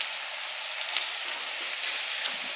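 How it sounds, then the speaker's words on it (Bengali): Onion frying in hot oil makes a soft, steady hiss of fine crackles and pops, moderately quiet and close, with no talking. "পেঁয়াজটা ভাজা হচ্ছে"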